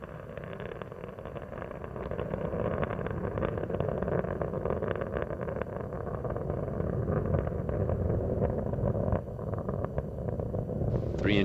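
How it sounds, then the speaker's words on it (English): Space Shuttle Endeavour's three main engines roar during launch, a steady, dense rumble that holds for the whole stretch and swells slightly after the opening seconds, with faint voice-like traces underneath. "Three engines on Endeavour are now throttling back to 2/3 throttle"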